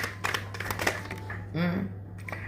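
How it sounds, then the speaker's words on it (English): Tarot cards being shuffled by hand, quick papery riffling and tapping bursts close to the mic over a steady low hum, with a voice briefly murmuring. "I want to shuffle for one more card"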